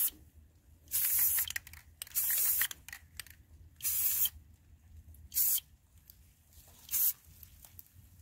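Gold spray paint hissing from an aerosol can onto craft feathers in short bursts, five separate sprays of a second or less each with quiet pauses between, close and fairly loud.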